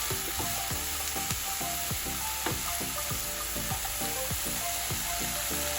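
Prawn taco mixture sizzles loudly and steadily in a pan while a utensil stirs it, making repeated scraping strokes in an uneven rhythm close up. No one speaks.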